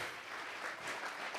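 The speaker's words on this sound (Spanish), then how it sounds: "Vamos a regalarle ofrenda de palmas al Dios de la gloria" A church congregation claps together during a sermon, a steady wash of hand claps at a moderate distance that carries on without a break and with no talk over it.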